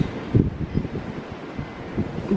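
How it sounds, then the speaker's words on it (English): Breezy, cold spring morning wind in an urban cottage garden, a soft steady rush with low gusty buffeting that swells briefly near the start and again toward the end, no voices. "It's very breezy and kind of cold here in this last week"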